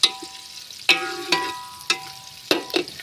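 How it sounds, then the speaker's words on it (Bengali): Onions frying in a pan under a quiet sizzle, punctuated by several sharp metallic clanks of a spoon striking the pan that ring briefly, spaced irregularly, with no voices. "দেখো পেঁয়াজ ভাজি হবে তারপরে রান্না হবে"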